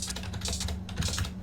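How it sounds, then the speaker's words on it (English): Rapid keystrokes on a computer keyboard during beat-making, tapping keys such as minus to shift pitch; a dense run of close, light clicks continues steadily with no talk. "I just hit the minus key"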